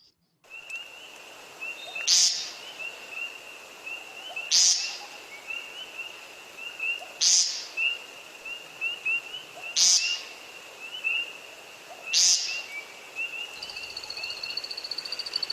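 American woodcock and common snipe making wing-feather sounds with their primary feathers: five sharp, evenly spaced bursts about every two and a half seconds over a steady thin tone and faint background hiss.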